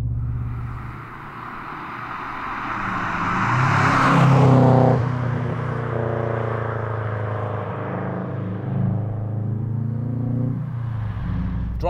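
A classic Subaru Impreza WRX being driven, its engine droning steadily from inside the car as it builds to a louder surge, then settles into a lower, even hum with tonal harmonics.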